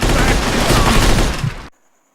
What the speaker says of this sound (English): the gangsters start firing at the house